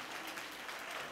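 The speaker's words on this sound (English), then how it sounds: "let's start by asking you to give yourselves a round of applause" A school board audience at a Hampton City Schools Citizen of the Month event claps for themselves, a faint, brief, even wash of applause heard from a distance.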